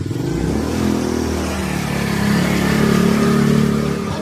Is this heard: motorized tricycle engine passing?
yes